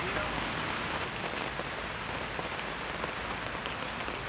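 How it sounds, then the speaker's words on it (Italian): Steady rain pours down at an outdoor fishing spot, a dense, even hiss of drops on surfaces filling the whole span without a break. "Ma siccome sta piovendo, come Dio la manda, e la telecamera mi serve anche i prossimi giorni."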